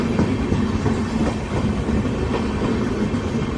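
A train runs past a railway level crossing where a Repalle APSRTC bus waits at the closed gate, a loud, close, continuous rumble with rhythmic wheel clatter across the whole moment.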